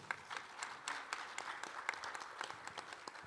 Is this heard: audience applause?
yes